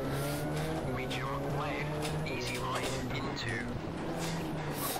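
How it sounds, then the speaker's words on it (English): A Subaru Group N rally car in the Richard Burns Rally game drives a tarmac stage, its engine droning and shifting pitch while tires squeal in short bursts, with a voice talking over it. "as you might have heard of the car engine, I'm driving a Subaru Group N, WRC"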